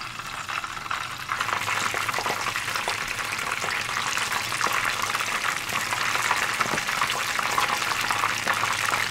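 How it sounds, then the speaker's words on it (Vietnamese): Battered eggplant slices fry in hot oil, a steady, dense sizzle and crackle that runs evenly throughout with no voices. "Mình cứ nhúng bột và chiên lần lượt cho đến hết nha."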